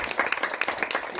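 Audience at a town inauguration event clapping, a brisk patter of many hands, close and moderately loud throughout the short burst.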